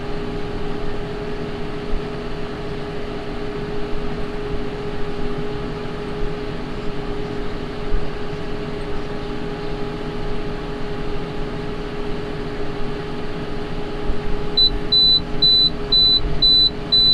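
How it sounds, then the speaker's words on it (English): A Doyle bale baler running through its baling sequence produces a steady low mechanical drone with a constant hum. Short repeated electronic beeps join near the end. "This is a Doyle Bale Baler."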